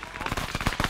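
Rapid bursts of gunfire from a military shooter game crackle through the whole second, dense overlapping shots at close to mid range with no pauses.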